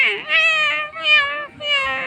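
Cat meowing in a Roblox game, a series of drawn-out, wavering meows repeating about three times in close succession, loud and fairly clear with no talking over it.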